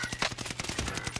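A rapid string of close, sharp gunshots in an online shooter game, firing in quick succession for just over a second.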